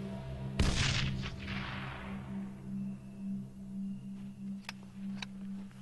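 A MK20 grenade launcher fires in ARMA 3 with one sharp, loud launch boom and a ringing tail that fades over a couple of seconds, followed by a steady low hum and a few faint mechanical clicks.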